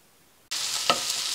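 Onion and tomato pieces dropped into a hot pan burst into a loud, steady sizzle after a brief quiet moment, with a couple of stirring scrapes, close up and with no talk.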